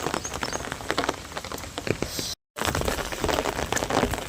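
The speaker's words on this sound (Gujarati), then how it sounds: "વરસાદ હાલ ચાલુ છે" Steady rain patters densely on a surface nearby, with a brief cut to silence midway before the rainfall continues.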